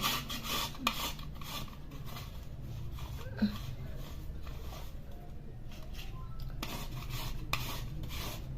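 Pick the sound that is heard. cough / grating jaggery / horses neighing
grating jaggery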